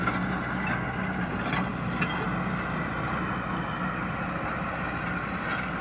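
Swaraj 855 or Kubota 5502 tractor diesel engine running steadily, a continuous low rumble with no talk over it.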